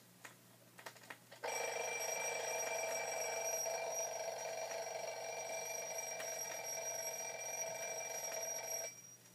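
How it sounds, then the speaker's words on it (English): An alarm clock rings in one continuous, bright, metallic trill for about seven seconds after a few soft clicks, then it stops abruptly. "And then there are alarm clocks."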